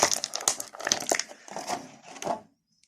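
Crinkly crunching and tearing of packing tape being peeled off an Evil Lyn action figure, in several rough bursts close by, then stopping into silence.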